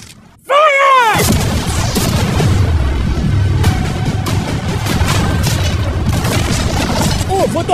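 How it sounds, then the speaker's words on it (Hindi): Cannons fire at a new yacht, striking storage containers: a rising whistle, then a heavy blast and a dense, continuous roar of booms and crashing debris, with a voice calling out over the din. "अब हम तुम्हारी नई यॉट पर कैनन्स को शूट करने वाले हैं।"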